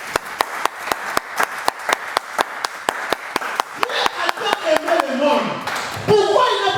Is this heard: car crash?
no